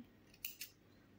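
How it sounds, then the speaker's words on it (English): Two quick, crisp snips of scissors cutting through knitting yarn, close and fairly quiet, evenly spaced with a short gap, no voices. "Pull and you can cut this yarn."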